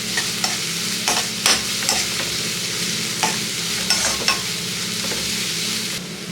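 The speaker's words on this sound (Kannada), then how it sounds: "1 ಕ್ಯಾರೆಟ್ ತುರಿದಿಟ್ಕೊಂಡಿರೋದು ಹಾಕೋತಾ ಇದ್ದೀನಿ. ಹೋಗೋ ತನಕ ಇದನ್ನ ಫ್ರೈ ಮಾಡ್ಕೊಬೇಕು." Grated carrot fries in a pan while being stirred: a continuous close sizzle with repeated scraping strokes of a spoon against the pan, no talk.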